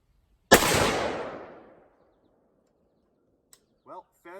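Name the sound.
two shots fired from a 458 SOCOM AR-15 rifle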